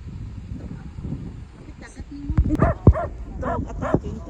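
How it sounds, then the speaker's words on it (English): A dog barks and snarls in a sharp cluster of loud, close yaps and growls during an attack on a street in the Philippines, with people talking and ambient outdoor noise. "Dog attacking terrible."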